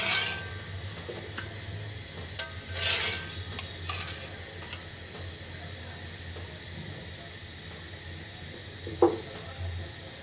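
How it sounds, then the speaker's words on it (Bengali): Rotis fry one at a time in a pan over a soft, steady sizzle. Scattered scrapes and stirring clatters cut through now and then, with no talking. "তারপরে আস্তে আস্তে একটা করে ভাজি করে নিই।"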